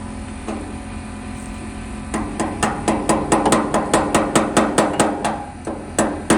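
An adjustable hammer strikes repeatedly indoors, first a few scattered knocks and then a quick steady run of sharp, loud blows close by.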